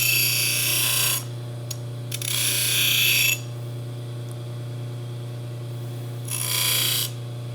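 A Baldor buffer wheel deburring a metal part, with a steady motor hum underneath and bursts of bright, hissing grinding contact as the part is pressed to the wheel, three times, the middle pass longest.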